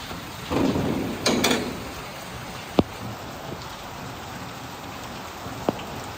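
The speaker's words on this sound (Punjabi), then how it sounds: "ਬਹੁਤ ਜ਼ਿਆਦਾ ਮੀਂਹ ਪੈਂਦਾ ਜੀ" Heavy rain drums steadily nearby, with a couple of louder rushing swells early on and a few sharp drip or knock sounds punctuating the constant downpour.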